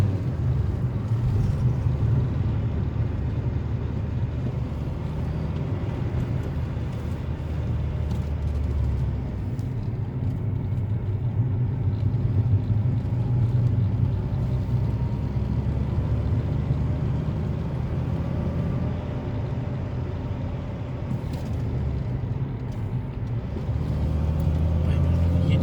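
Chipped VAZ-2112 car engine on Yanvar 7.2 firmware while driving, a steady loud low rumble from inside the cabin that runs the whole time, with faint voices over it and the engine jerking.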